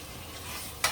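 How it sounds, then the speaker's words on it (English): Curry with coconut milk being stirred in a cooking pot, a soft steady scraping and bubbling texture that stays quiet throughout, ending in a brief brighter clink or splash. "I'm going to stir this up"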